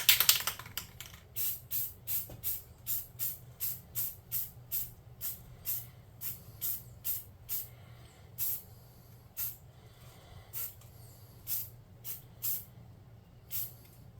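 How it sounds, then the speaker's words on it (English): Short bursts from a spray can of flat primer paint hit a tabletop game model, about two dozen quick hissing sprays in an irregular rhythm, close and fairly loud, with no talking. "I'm hitting him with a flat primer."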